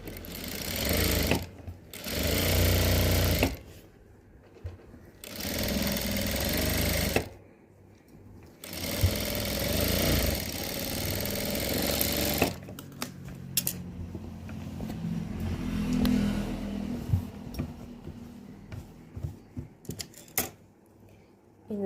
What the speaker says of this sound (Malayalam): ഇനി നമുക്ക് ഒരു സ്റ്റിച്ച് കൂടി ഇട്ട് കൊടുക്കാം.